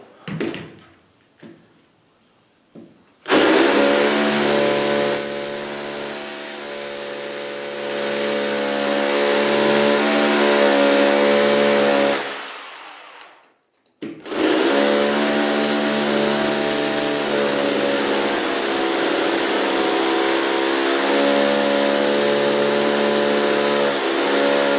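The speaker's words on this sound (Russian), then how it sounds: "как я дырки сверлил, да?" A power drill bores holes while clips for corrugated conduit are fitted, running loud and steady in two long bursts of about nine and ten seconds, separated by a short pause, with a few small knocks before it starts.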